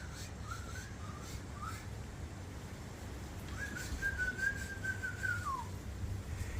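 A few short whistled notes, then one long sustained whistle, faint over steady low background hum, with no talking.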